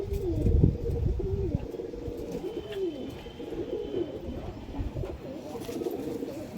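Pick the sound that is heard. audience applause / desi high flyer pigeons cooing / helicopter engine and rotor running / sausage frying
desi high flyer pigeons cooing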